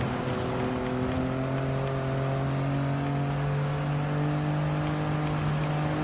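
A Toyota GR Yaris RZ First Edition racing in Gran Turismo Sport, its engine holding a steady sustained drone with layered harmonic whine at constant load, loud and continuous throughout without speech.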